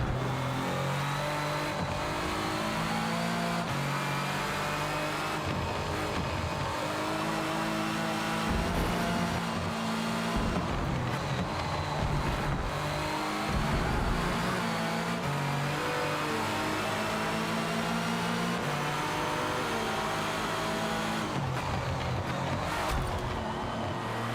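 Chevrolet cars pulling away in a racing video game, a sustained engine drone with revving and shifting pitch that runs continuously and fairly loud, without talking over it.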